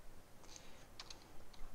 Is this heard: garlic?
no